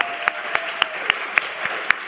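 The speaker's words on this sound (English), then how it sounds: "I'd like to just give one more big round of applause for Minister Antoinette today." Audience applause for Minister Antoinette at a service: a steady wash of crowd clapping with sharper, louder claps standing out in an even rhythm, a few each second, and no talk.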